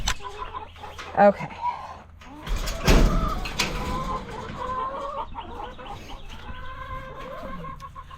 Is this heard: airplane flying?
no